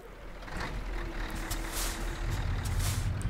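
A heavy truck drives in Euro Truck Simulator 2, with a steady low engine rumble and the hissing release of air brakes, close and fairly loud throughout with no talking.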